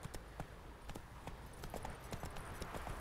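The horse Roach galloping in The Witcher 3, with quick, rhythmic hoof clip-clops that keep up a steady running beat, fairly faint in the game's soundscape.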